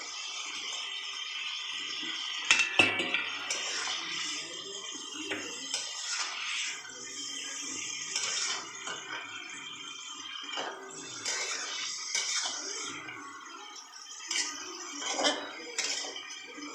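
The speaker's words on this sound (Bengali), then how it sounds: "আমি যেরকম করে নাড়ছি এরকমভাবেই নাড়বেন, নাহলে মাছগুলো ভেঙে যাবে" Bhola fish being gently stirred in a pan for a dry Bengali chorchori: soft scrapes and light clinks of a utensil against metal, quiet and intermittent.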